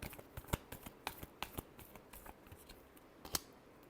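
Tarot cards are shuffled close up, giving a string of crisp slaps and riffles at an uneven pace, with one louder snap near the end and no voices over it.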